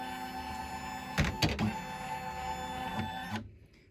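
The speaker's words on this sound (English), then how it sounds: "So it's going to recalibrate the arm to go back to where it should be." An embroidery machine arm recalibrates with a steady electric motor hum, several sharp mechanical clunks early on and a softer knock near the end before it falls quiet.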